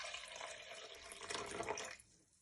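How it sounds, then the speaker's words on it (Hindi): Half a cup of water poured into cooled oats in a blender jar for a smoothie, a close, steady splashing stream lasting about two seconds before tapering off. "सबसे पहले मैं इसमें पानी डालूंगी"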